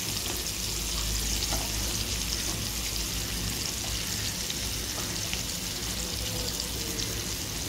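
Green chillies, ginger and garlic roasting in a pan with onion and tomato, a continuous even sizzle with faint crackles and light stirring, steady and close, no talking.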